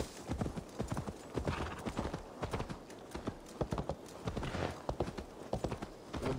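A horse gallops in the video game Assassin's Creed Valhalla, rapid rhythmic hoofbeats thudding loud and close in a steady, driving pattern, with faint snorting and no clear speech.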